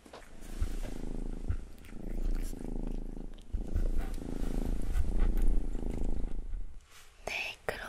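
A cat kept in a pet shop purrs close by in long, steady rhythmic cycles, with soft whispering voices over it.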